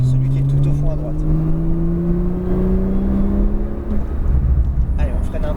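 A Porsche 911 Turbo S accelerates on a circuit, its engine note climbing steadily in pitch as it pulls, heard loud from inside the car under a driving instructor's coaching.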